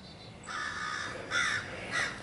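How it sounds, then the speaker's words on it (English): Crows caw outdoors in three loud, harsh bursts with short gaps between them, heard alone without any talk. "Shut up, crows!"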